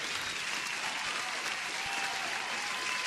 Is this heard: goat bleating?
no